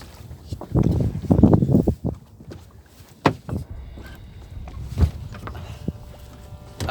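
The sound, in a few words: footsteps walking around a sailboat deck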